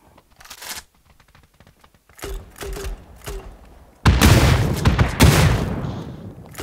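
Grenade blasts and gunfire in the PUBG New State arena mode: scattered shots and rapid bursts give way to two loud, close explosions near the end, with brief voices reacting in between.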